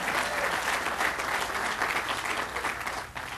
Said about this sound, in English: Let me hear rounds of applause for being in District 6.